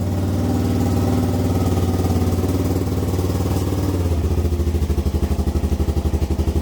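A Yamaha 225DR motorcycle engine idling cold, a loud close steady putter that shifts to a deeper, more pulsing beat partway through, with no talk over it.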